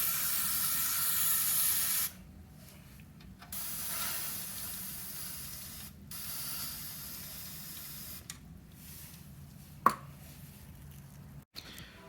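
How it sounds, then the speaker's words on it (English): Bursts of hissing aerosol spray of Fluid Film rust-proofing fluid onto a car start and stop repeatedly, close by, with short pauses between them and a sharp click partway through. "You do want to spray a lot more in there."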